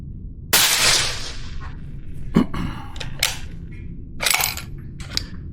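Shots from a .308 Christensen Arms short-barreled rifle at an outdoor range, one loud sharp report followed by smaller clacks, clicks and handling noises at irregular intervals, with another burst later on, close to the listener.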